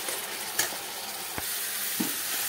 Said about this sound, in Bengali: একটা টমাটার আমি পিউরি করে রেখেছিলাম, এই টমাটারের পিউরিটা দিয়ে দিলাম।